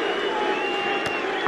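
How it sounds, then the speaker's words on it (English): Sarcastic applause from England supporters at a cricket ground, a brief wash of distant crowd clapping, steady and fairly subdued, over a continuous murmur. "Sarcastic applause, you'd say, from England."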